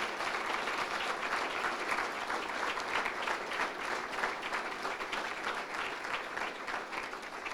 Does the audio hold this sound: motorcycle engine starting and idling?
no